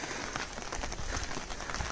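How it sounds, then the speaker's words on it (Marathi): Monsoon rain falls steadily on an umbrella during a village walk in the Konkan, producing a soft, even patter with scattered droplet taps. "पावसामध्ये असं छत्री घेऊन मस्त बाहेर पडायचं फिरायला"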